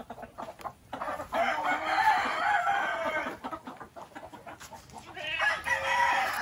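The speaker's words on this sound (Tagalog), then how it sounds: "Manok, tingnan natin." Rooster crowing on a farm, a drawn-out call rising and falling over several seconds with clucking fowl around it, fairly close and clear with no talk.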